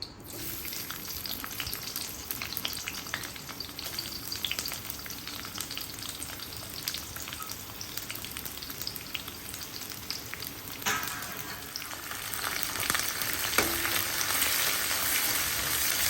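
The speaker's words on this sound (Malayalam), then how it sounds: "കുറച്ച് വെളിച്ചെണ്ണ ചീനച്ചട്ടിയിൽ ഒഴിച്ചു ഇനി ഉള്ളി ഇടുക വഴറ്റാൻ വേണ്ടി" Onions sauté in coconut oil in a pan, a dense, steady crackling sizzle that holds throughout and swells slightly near the end, close and without speech.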